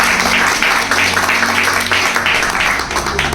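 A congregation at a healing and deliverance service in Haryana claps loudly and steadily, the close, dense applause sometimes pulsing in a loose rhythm with a low hum beneath it.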